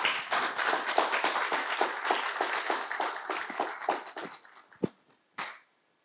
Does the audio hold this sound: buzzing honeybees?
no